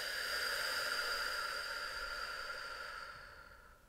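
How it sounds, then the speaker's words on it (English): A slow exhale, a soft steady hiss of air that holds for about three seconds and then fades gently to quiet, close and alone with no talking. "let's just take a few breaths in"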